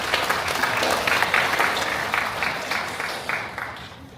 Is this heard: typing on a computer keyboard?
no